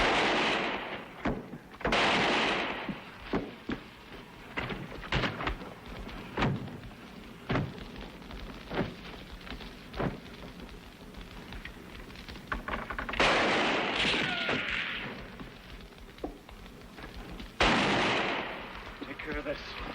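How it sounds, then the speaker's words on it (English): Gunshots fired toward a wagon in an old western drama, several sharp, loud reports spaced irregularly with echoing booms and scattered thuds, and voices heard between them. "Just fire toward the wagon when I go."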